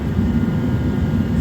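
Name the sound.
jet heater running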